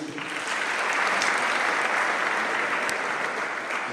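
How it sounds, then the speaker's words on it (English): An audience claps for a speaker being introduced at a talk, a sustained, even round of applause heard fairly close and steady across the whole stretch, with no voices over it. "Unless you're jealous, can you clap one more time?"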